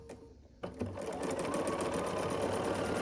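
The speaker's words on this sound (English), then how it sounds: "we'll sew along this long side here" A sewing machine stitches a quilt block seam for a Windmill Star block, starting after a brief quiet moment and then running as a steady, close, continuous whirring hum.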